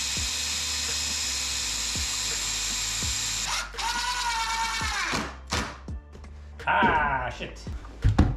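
A strip of back support is nailed onto a wooden bookcase, with a few sharp hammer or nailer knocks. A steady mechanical hum runs underneath, along with tool whirs, and a person speaks partway through.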